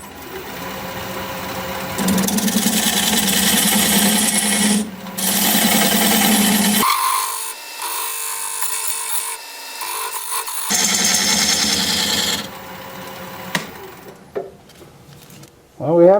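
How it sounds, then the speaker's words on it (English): A diamond point tool scrapes against spinning wood on a lathe, squaring the sides of a bowl tenon, with a steady close rasping hiss that cuts out partway and then resumes before stopping near the end. "Now I'm going to use this diamond point tool to square up the sides of the tenon."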